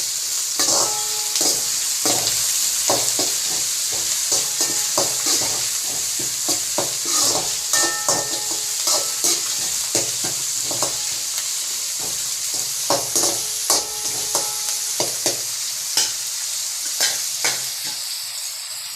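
Onions sautéing with curry leaves and coriander for Sirkali chicken curry, a steady close sizzle broken by many quick spatula scrapes and clatters in irregular bursts, with no talking.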